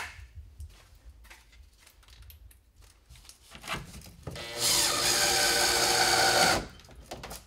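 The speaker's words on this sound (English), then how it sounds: "So now I'm ready to put these final screws into the front." A power drill drives final screws into the front of a plumbing fixture, starting with light handling clatter, then a steady loud whir of about two seconds that stops abruptly.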